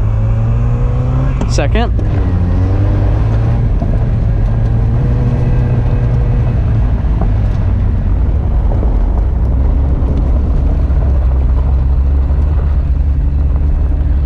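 A vehicle engine driven with a hand-operated clutch revs and speeds up, a loud close drone with a quick rising whine near the start, then a sustained steady roar; a voice speaks briefly.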